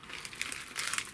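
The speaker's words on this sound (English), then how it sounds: "That's the packet with bubble wrapping," A plastic bubble-wrap packet holding a phone case is crinkled, giving soft, continuous rustling and crackling up close at low volume, with no talking.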